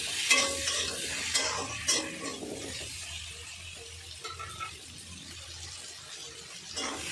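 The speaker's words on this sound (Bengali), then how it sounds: "আলুটাকেও ভালো করে মশলার সাথে মিক্স করে নেব।" Chopped potatoes are stirred and mixed with spices in a pan, with soft scraping strokes over a low sizzle, close but fairly quiet and without speech.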